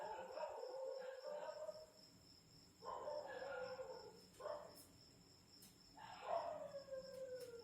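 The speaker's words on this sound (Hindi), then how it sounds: "यहाँ पे गली में बहुत सारे कुत्ते भौंक रहे" Several dogs bark and howl in a street around midnight, with drawn-out howls rising in separate bursts at a moderate distance, a few seconds apart.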